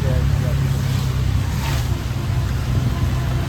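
Rainwater streams across a road from one side to the other, a continuous rushing wash over a steady low rumble, fairly loud and even throughout.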